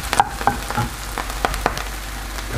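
Oil sizzles steadily in a pan as honey mushrooms fry, with a few sharp crackles and pops scattered throughout, close and moderately loud, no voices.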